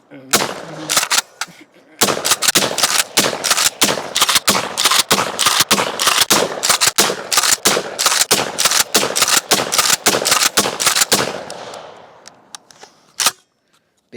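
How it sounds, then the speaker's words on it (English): A Kel-Tec KSG pump shotgun fires a long run of loud, sharp blasts in quick succession, a near-continuous volley of close shots over about ten seconds before it tapers off, with one last isolated report near the end. "Great day shooting the KSG."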